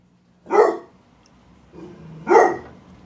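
A dog barks twice, each a sharp, fairly loud bark about two seconds apart, with a quiet indoor room in between.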